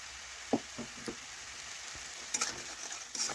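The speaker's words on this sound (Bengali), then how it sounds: "মশলা বেশ কিছুক্ষণ ধরে একটু কষে নিচ্ছি" Masala for fish-head mung dal frying in oil and being stirred, a quiet continuous sizzle broken by occasional sharp scrapes and clinks of the spoon against the pan.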